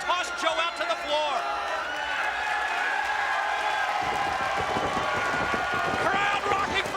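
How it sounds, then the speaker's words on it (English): A wrestling arena crowd roars continuously, with loud cheering, whoops and scattered clapping swelling toward the end. "What a shot, and the crowd goes crazy."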